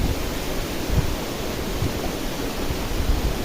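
Water of the Kali Pancur waterfall at Getasan, a tall falls with a small flow, rushing as a steady broadband roar with no voices.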